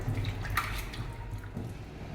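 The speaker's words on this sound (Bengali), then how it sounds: "তাই জন্য একটু ধুয়ে নিই" Kabuli chickpeas being rinsed in water, with steady watery swishing and trickling close by, some brief splashes and a faint drip, no voices.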